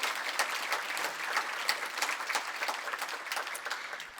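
Audience at a philanthropy award celebration clapping for a $10 million giving milestone, dense, even applause sustained for about four seconds with no voices over it.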